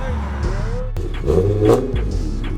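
Car engines rev and vehicles pull away outdoors, with a sharp revving surge midway and a rumbling low drone throughout, while people talk over the noise nearby.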